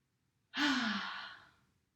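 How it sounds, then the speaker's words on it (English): A single long, breathy exhale, like a deep sigh, during a Pilates stretch at home; close, airy and steady, fading out over about a second. "Deep breath in, deep breath out."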